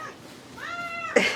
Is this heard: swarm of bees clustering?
no